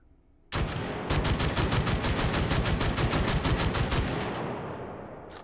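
Sustained full-auto bursts from an H&K gun in the VR game Hot Dogs, Horseshoes & Hand Grenades, a rapid, evenly spaced string of loud shots for about four seconds, tailing off into echo; no talk.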